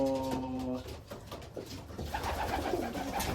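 Racing pigeons coo in a loft, a steady layered murmur of cooing with someone talking over it and a brief dog sound, close and continuous throughout.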